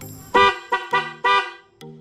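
Four loud, harmonic blasts from a dual car horn in an uneven burst, with a fainter fifth toot at the end; the two-tone blare sounds close and strong.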